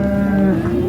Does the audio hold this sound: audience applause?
no